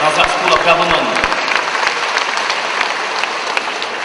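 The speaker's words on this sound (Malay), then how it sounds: "kita berikan tepukan kepada Profesor Dr. Hamidin Abdul Hamid" An audience at a debate competition final applauds a judge, a sustained round of clapping with a few low thumps near the start, slowly easing off.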